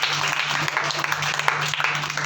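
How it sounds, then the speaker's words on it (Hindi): A group of children at a summer camp clap together, a dense steady burst of applause filling the room at moderate loudness with no voices over it. "चलो भाई, इसके लिए ताली बजाओ सभी पीछे वाले।"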